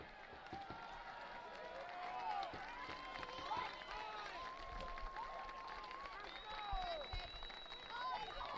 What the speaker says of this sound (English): A warm applause from the crowd for Kai Briscoe